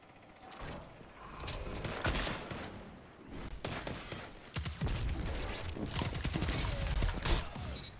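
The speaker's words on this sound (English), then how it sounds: "So glad these guys are whiffing their shotgun shots" Rapid shotgun blasts and mechanical clatter from a firefight in the Destiny 2 shooter, dense overlapping bangs going off repeatedly at close range, loud and chaotic throughout.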